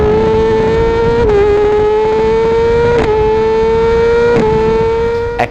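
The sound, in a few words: motorcycle engine recorded by a GoPro on the tail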